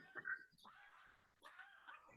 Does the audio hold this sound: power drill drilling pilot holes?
no